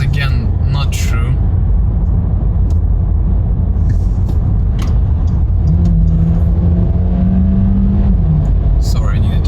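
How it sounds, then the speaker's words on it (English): An Audi A3 e-tron plug-in hybrid pulls out to overtake, its engine note rising into a steady drone heard from inside the cabin over constant road and wind noise. "Sorry, I needed to overtake this guy."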